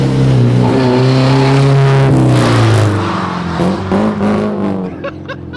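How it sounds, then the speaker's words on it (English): A rear-wheel-drive Honda Civic with a swapped, B-series-sounding engine revs hard, a loud rising then falling engine tone close by, with a few brief faint voices at the end. "It sounds so much like a Honda. That sounds like a B series."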